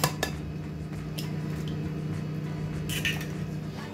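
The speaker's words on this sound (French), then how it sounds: "Je rajoute œuf par œuf histoire de bien mélanger le tout" Eggs being mixed one at a time into Basque cheesecake batter, soft wet squishing with occasional light clinks of a utensil against a bowl over a steady low mixer hum.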